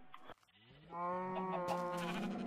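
A sheep in the video game Minecraft gives one drawn-out, wavering bleat, loud and close, after a moment of quiet.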